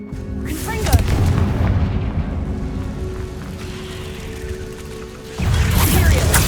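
A Confringo fire spell blasts in the video game Hogwarts Legacy with a loud booming burst, a rumbling crackle that fades, then a second heavy boom. A voice calls out over the blast.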